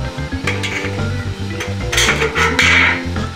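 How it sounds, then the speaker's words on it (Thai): Tin snips chop through a light-gauge metal wall frame stud in a series of rhythmic, crisp metallic clicks and scrapes, close and loud, with no talking. "เราก็สามารถใช้กรรไกรตัดซิงเนี่ยครับเนี่ยตัดง่ายๆแบบนี้ได้เลยนะครับ"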